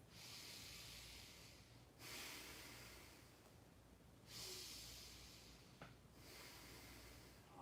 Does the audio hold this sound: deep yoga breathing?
yes